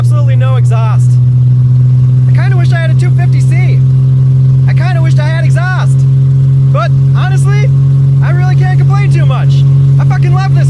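A 1970 Mercedes-Benz 250 four-door with a 2.5-liter engine and no exhaust idles with a deep, steady rumble throughout while people talk over it.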